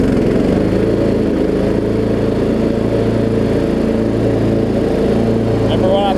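A Craftsman LT1750 limited edition riding lawn tractor with electric PTO runs at a steady, loud idle, its engine droning evenly and close throughout with no change in pace.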